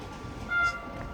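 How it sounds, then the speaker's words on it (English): A freight train rolls past on the Mediterranean Corridor line at Salou, Spain, a steady close rumble with a brief tonal horn-like note sounding midway. "Oh no, it's a freight train"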